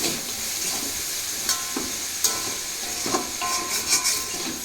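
Vegetable chowmein stirred and sautéed in a hot pan, a continuous sizzling hiss broken by several sharp clinks and scrapes of the utensil against the metal.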